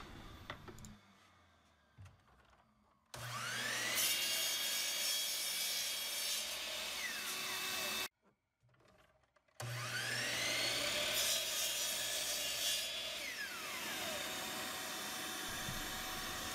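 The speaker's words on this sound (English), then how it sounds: "The next step would be to cross-cut them to length on the miter saw." Miter saw cross-cutting tiger maple pieces to length in a woodshop: two long, loud cuts, each with a motor spin-up and a rising whine as the blade bites, separated by a short quiet gap.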